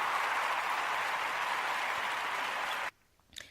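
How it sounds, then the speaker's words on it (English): Audience applause from a live event audience, a steady, dense burst of clapping at even loudness that stops abruptly, followed by a brief faint cheer. "Let's celebrate your daughter for rocking her afro with a big round of applause for that."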